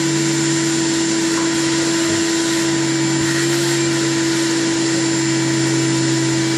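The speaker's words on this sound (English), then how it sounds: "mom vacuuming the garage" A vacuum cleaner runs steadily inside a garage, a loud, constant motor whine and airflow roar with a fixed pitch that holds unbroken throughout.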